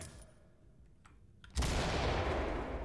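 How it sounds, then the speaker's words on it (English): A flashbang grenade detonates in the tactical shooter Ready or Not: after a quiet stretch, a sudden loud blast hits midway and gives way to a sustained, roaring wash of noise. "Pop a flash there. Okay, readying flashbang."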